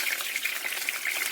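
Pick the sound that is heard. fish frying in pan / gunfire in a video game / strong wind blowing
fish frying in pan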